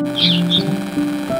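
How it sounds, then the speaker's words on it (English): A red-winged parrot in the town of Timaru gives short high chirping calls, two bright bursts near the start over a steady background hum, with no voices. "This is the red-winged parrot."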